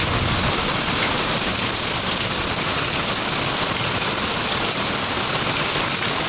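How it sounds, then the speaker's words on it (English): Heavy rain pours down in Georgia, a dense, steady, close hiss of drops hammering surfaces without a break, loud and uniform with no talking. "So that's what it's like when it rains in Georgia."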